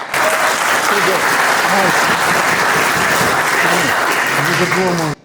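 Dense, loud applause fills a community fundraiser gathering, steady and continuous throughout, with voices and cheering mixed into the crowd noise before it cuts off at the end.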